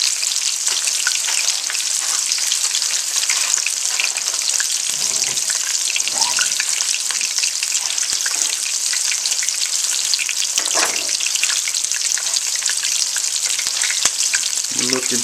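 Squirrel pieces frying in a cast iron pan, a steady loud sizzle and crackle of hot oil throughout, with occasional light clinks and stirring sounds.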